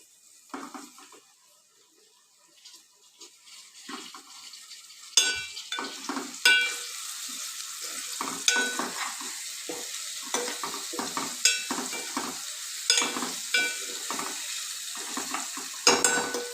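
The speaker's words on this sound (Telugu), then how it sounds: "ఎండు చేప కూడా ఉల్లిపాయలు వేసి శుభ్రంగా ఆయిల్ అయితే మగ్గిచ్చేసుకుందాము." Dried fish and onions sautéing in oil in a pan, the sizzle quiet at first and then building to a steady frying crackle, with stirring scrapes and clinks of a utensil against the pot throughout.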